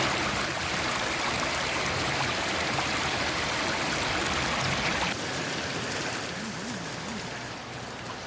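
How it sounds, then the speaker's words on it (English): Rainwater rushes down a street in the Hollywood Hills after heavy overnight rain, a steady loud broadband wash of flowing water and spatter that continues throughout, with voices faintly in the mix. "You could see water flowing down the street"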